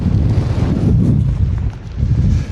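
Strong wind buffets the microphone at Miami Beach during rainy weather, a loud continuous low roar that swells and dips without pause.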